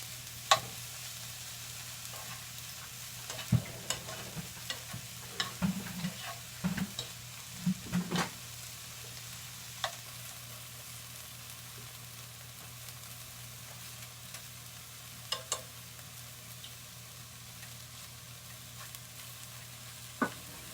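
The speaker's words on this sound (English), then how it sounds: "As you can hear the sizzling, the matzah is starting to have most of its water evaporate" Egg-soaked matzah sizzles quietly in a frying pan, a low steady fry with scattered crackles and a few soft knocks of a utensil against the pan, and no voices.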